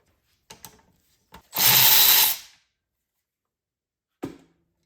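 Tools work on a bolt on a BMW N20 engine from a 328i: a few sharp metallic clicks, one close, loud burst of power-tool whirring lasting under a second, then a final single click in a quiet space.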